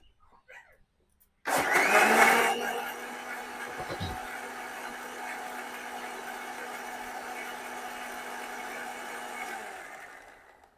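A blender whirs to life with a sudden loud surge, mixing a dragon fruit milkshake with black salt. It settles into a steady, close motor drone for about nine seconds before winding down.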